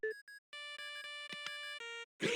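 A series of electronic tonal beeps, stepped and chiming, the Game Boy Horror incoming-call jingle for a call from Gadd in Luigi's Mansion, followed by a short burst of noise at the end.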